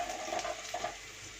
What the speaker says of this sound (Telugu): ఇవన్నీ కూడా మంచిగా వేయించుకోవాలండి, దోరగా వేయించుకోవాలి.